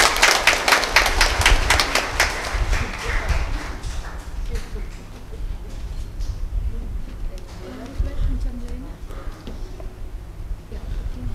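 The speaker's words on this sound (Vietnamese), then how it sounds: "Cộng đoàn chúng ta cùng nổ một tràng pháo tay để chúc mừng cho hạnh phúc của hai đôi bạn trẻ." A church congregation applauds at a Catholic wedding: loud, dense clapping at the start fades to scattered claps over the room, with a voice speaking over the later part.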